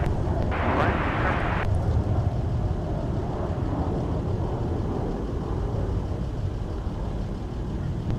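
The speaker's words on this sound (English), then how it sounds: "our departure to Tokyo Haneda is on the move. Let's take a look and a listen." An Airbus-type airliner departing MSP airport for Tokyo Haneda on a winter day, heard as a broad, distant jet roar that rumbles steadily throughout, with a brief higher hiss early on and possible faint talk in the background.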